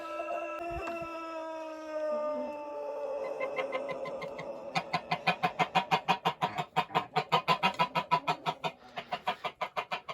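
A rooster gives a long, drawn-out crow, then breaks into a fast, loud, rhythmic run of clucks close to the microphone.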